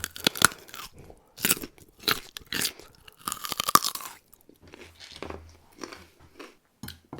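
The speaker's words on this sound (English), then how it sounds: "Every time I eat carrots, raw carrots like this" Raw carrot being bitten and chewed, sharp crisp crunches in irregular bursts up close, with brief pauses between bites and no talking.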